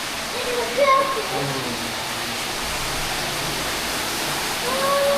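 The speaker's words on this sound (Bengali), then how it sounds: "আমরা এখন একটা ঝর্ণা পেয়েছি" A waterfall at Meridian Fish World in Cox's Bazar gives off a steady, broad rushing wash of falling water throughout, with brief faint voices and a few chirping sounds rising over it.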